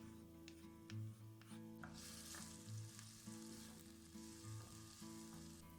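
Steady oil sizzling and crackling as onion fries with mushrooms in a hot pan, with occasional stirring scrapes; continuous and close, no voices.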